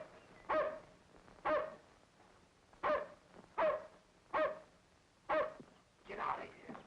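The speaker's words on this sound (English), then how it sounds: "But you can't let him bark." A dog barks about seven times in an evenly spaced series, each bark sharp and fairly close, with short quiet gaps between them in a tense crime drama scene.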